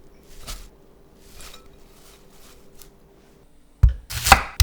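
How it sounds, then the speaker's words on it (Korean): Washed mugwort, 150 g, cut with a knife into 3 cm lengths: a few faint, evenly spaced chops, then a loud close cluster of sharp blade strikes against the board at the end. No one speaks. "깨끗이 씻은 쑥 150g을 준비하고 3cm 간격으로 썰어"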